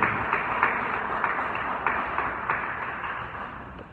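Audience applause at a Cancún award ceremony, steady dense clapping from a crowd, moderately loud and continuous, slowly fading over a few seconds.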